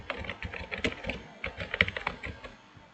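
Someone types a name into an online registration form on a computer keyboard, producing a close, brisk run of irregular key clicks with no talking.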